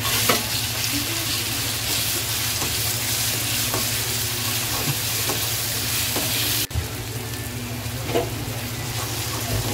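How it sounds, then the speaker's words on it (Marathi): Ginger garlic paste and chili fry in a pan for restaurant-style Schezwan chutney, giving a steady, loud sizzle throughout with occasional scraping stirs and a brief break near the end; no one speaks. "लसूण थोडी फ्राय झाली की आपल्याला टॅमॅटो प्युरी आपल्याला त्यात ओतायची आहे."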